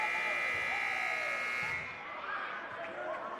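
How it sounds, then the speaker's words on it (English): A loud, steady electronic buzzer sounds inadvertently in a gym during a varsity volleyball match and cuts off after almost two seconds, leaving crowd noise and voices. "And inadvertent buzzer's not going to stop the action."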